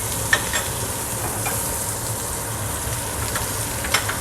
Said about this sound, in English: So this hot oil is just going to keep everything nice and crispy.